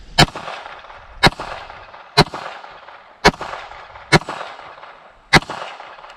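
A Glock pistol fitted with a tactical trigger fires six loud, sharp shots at a bowling pin target outdoors. The shots come at a quick, fairly even pace, each with a brief echoing tail and no talking between them.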